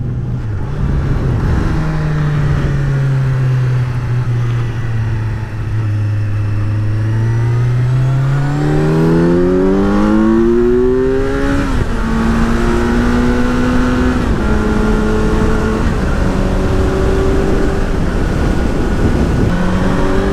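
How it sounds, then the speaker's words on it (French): A 2018 Kawasaki Z900 roadster's engine and exhaust roar loudly up close, the note dropping briefly, then climbing steeply through several gear changes into a sustained high-revving howl. "l'avantage avec les Z, c'est que ça gueule quand même fort"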